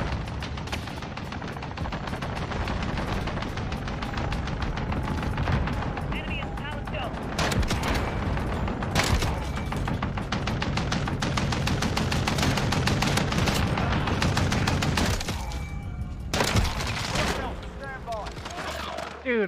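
Rapid gunfire from the video game Call of Duty Modern Warfare, with sustained bursts of automatic shots, some pauses, and a few sharper single cracks, loud and up close under ongoing game audio.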